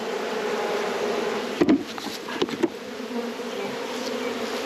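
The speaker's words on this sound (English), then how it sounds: "Any of the bees that are left over there will simply fly back into their old hive." Honey bees from a freshly moved swarm drone and hum steadily all around, close and continuous, with a couple of brief bumps partway through.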